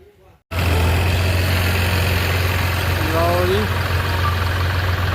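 A heavy tractor engine idles with a steady low rumble and vibration, close by and continuous after a brief quiet start, faint voices underneath.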